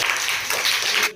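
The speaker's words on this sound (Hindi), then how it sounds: "तो एक बार जोरदार ताली बजाओ।" Audience at a school science quiz show clapping together, a dense burst of applause lasting about a second before cutting off abruptly.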